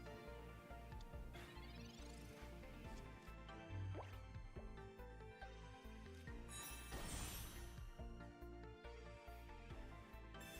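Soft dripping, squishy liquid sounds from a Pokemon water-move animation, used here by an ice Pokemon, repeat over steady, faint game music.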